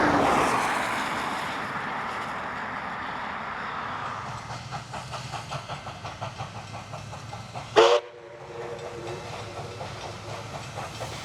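Steam locomotive 5917 pulls into Robertson station in New South Wales, its hissing steam and rhythmic clanking of wheels and cars rolling steadily, with a brief sharp burst near the end before the rumble continues.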